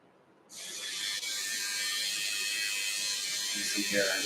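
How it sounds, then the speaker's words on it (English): An electric sideburns trimmer switches on and runs with a steady, high-pitched buzzing whir, fairly close and continuous after a short quiet start. "That's a sideburns trimmer."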